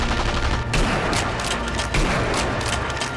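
Blind fire in the video game Sniper Elite V2 at the Tiergarten flak tower sounds as a dense, continuous burst of rapid gunshots with rolling booms, loud and close throughout.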